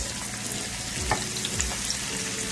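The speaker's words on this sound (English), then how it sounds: "we add our onion and our garlic and our scallion to the pot" Onion, garlic and scallion sizzle and fry steadily in a hot pot, a continuous close crackle with faint stirring scrapes and no talk.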